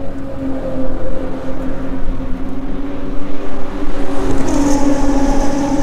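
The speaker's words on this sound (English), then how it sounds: "I know it might be hard to hear me because there's race cars flying by on the straightaway" Race cars roar past on the straightaway at Laguna Seca raceway, a loud, sustained engine drone that swells toward the end as a car passes close by.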